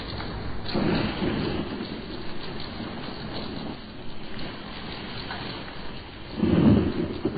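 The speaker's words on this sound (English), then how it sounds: "This is a terrible storm, Mother." Radio-drama thunderstorm effect of an electrical storm over an island, where a moored yacht rides out the weather: steady hissing rain throughout, with rolling thunder swelling near the start and a loud crack and rumble near the end, no voices.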